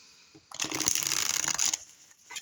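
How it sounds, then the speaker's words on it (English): A short riffling rush of oracle cards being shuffled, close and crisp, lasting about a second after a brief quiet start. "It feels like there would be a better mix of cards if I full shuffle."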